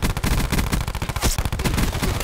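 Rapid automatic fire from the Switchblade X9 in Black Ops 4, a dense, steady stream of loud rounds with only a brief break partway through.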